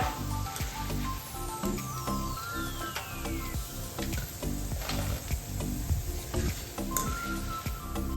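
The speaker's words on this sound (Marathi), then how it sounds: "आपण बटाट्याचा किस तळून घेऊया।" Grated potato shreds fry in hot oil over a low flame for farali chivda, giving a soft continuous sizzle and bubbling close by under steady background music.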